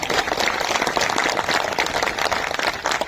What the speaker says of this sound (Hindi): संजय सर के लिए जोरदार तालियां होनी चाहिए आपको